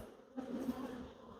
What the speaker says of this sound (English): Stick all these bees together.